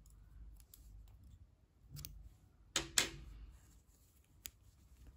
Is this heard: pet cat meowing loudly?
no